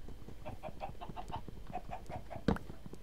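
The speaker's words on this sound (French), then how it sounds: "Y a des poules qui volent." Chickens clucking in a video game, a run of short repeated clucks in steady rhythm at moderate level, with one louder sharp sound near the end.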